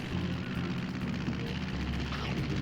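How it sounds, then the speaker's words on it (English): A plane engine in the Scooby Doo Unmasked video game drones as a loud, continuous, rumbling roar throughout, steady with no talk. "And maybe this is the caveman's plane."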